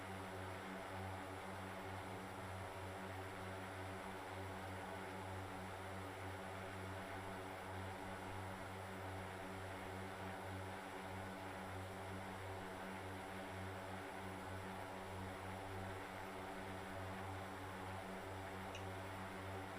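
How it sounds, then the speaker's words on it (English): The propeller engines of a Bronco aircraft in a flight simulator give a steady, continuous droning hum that holds evenly throughout, unchanging and without any voices. "I can't figure out why I can't get the props to sync on this thing."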